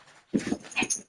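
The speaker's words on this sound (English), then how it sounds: "Feed the fucking dogs." A pet dog whimpers at feeding time, a short burst of two or three close whiny yelps and whines.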